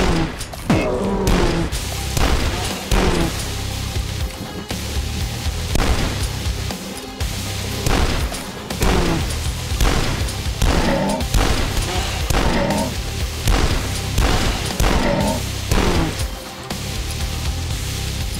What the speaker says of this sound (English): I want his double-barreled slow-firing shotgun.